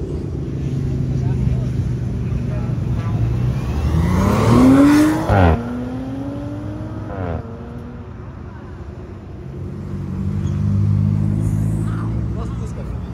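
A car engine revs and accelerates past near a police presence, the pitch sweeping up and falling as it roars by mid-clip, with a second rev after, over steady traffic rumble and people talking.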